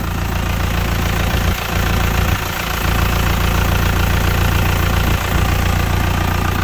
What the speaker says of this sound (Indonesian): Mari kita lihat untuk suara mesinnya seperti apa. Ini mesinnya udah dinyalakan teman-teman.